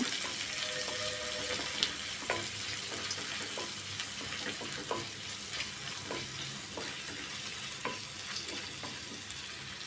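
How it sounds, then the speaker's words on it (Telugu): Thinly sliced onions sizzle in hot oil for bagara rice, frying toward golden brown with a constant crackling hiss and regular scraping strokes of a spoon stirring through them, near and without talk. "ఆనియన్స్ కొంచెం గోల్డెన్ బ్రౌన్ వచ్చేంత వరకు వేయించుకోవాలి."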